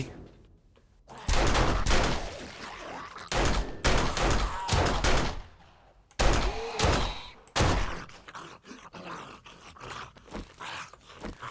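Gunfire rings out in the survival video game 7 Days to Die as loud bursts of shots and impacts, some in rapid clusters and others single cracks, with brief quiet gaps between them.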